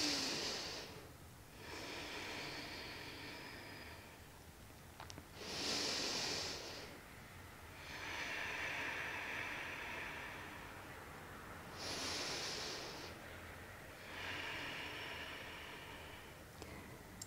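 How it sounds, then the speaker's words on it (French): Slow, deep yoga breathing during an energising morning wake-up session, heard close and alone as long airy inhales and exhales alternating in a steady rhythm of roughly three-second swells. "Respirez profondément."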